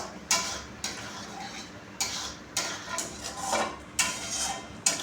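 Spatula scraping and stirring tomatoes with salt, turmeric and sugar in a pan, repeated strokes roughly every second over a soft frying sizzle, close and fairly loud with no talk.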